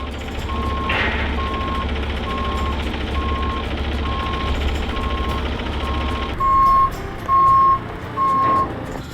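A delivery truck bringing barndominium kit parts backs up with evenly spaced electronic reversing beeps over a low idling diesel rumble. The beeps grow louder and nearer toward the end.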